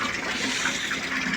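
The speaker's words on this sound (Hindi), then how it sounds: "हम लोग अभी मोटर चला लिए है, पानी भर रहे हैं।" Motor-pumped cold filtered water pours steadily into a container, a continuous loud rushing gush with no pauses and no talk.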